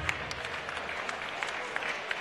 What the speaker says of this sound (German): Bitte begrüßen Sie aus München den Europameister Michael Wallisch.